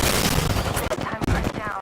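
Dense, rapid gunfire from Apex Legends, loud and close, with overlapping bursts of shots cracking almost without pause for the whole moment.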